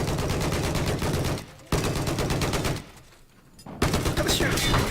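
Rapid, loud automatic gunfire from a multiplayer shooter game with attack helicopter combat, continuous bursts broken by two brief pauses, close and dominant with no talk over it.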